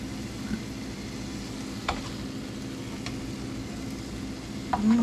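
Garlic chicken cooking in a pan gives off a low, steady sizzle with a few soft ticks and light stirring sounds, no voices.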